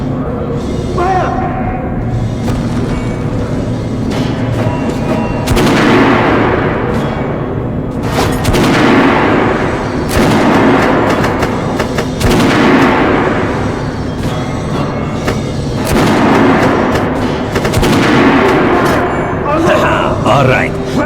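Heavy gunfire in the video game Metro 2033 booms repeatedly, with loud shots and explosive thuds mixed with shouting voices and battle noise throughout.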